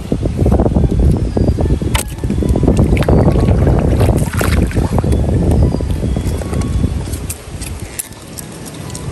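Loud, steady wind buffets the microphone throughout while fishing on a river, with low roaring gusts over water and occasional knocks and splashes, no speech.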